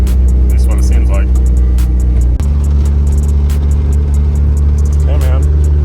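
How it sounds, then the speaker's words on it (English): A car engine runs steadily while driving slowly around the block on a test drive, with a constant low drone, a brief dip in the middle and people talking over it. "we're just going to test it, make sure it drives around the block"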